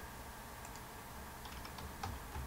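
Quiet keystrokes on a computer keyboard, a few light clicks and taps spread over a couple of seconds against low background hum.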